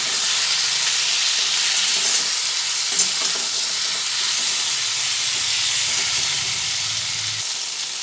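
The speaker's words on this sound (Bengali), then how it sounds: "এরপরে এটা ভালোভাবে ভেজে নিচ্ছি" Flat beans fry in hot oil with turmeric and salt, giving a continuous close hiss and sizzle, with faint occasional stirring touches against the pan.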